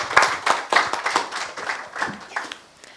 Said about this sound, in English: Another round of applause as they exit the stage.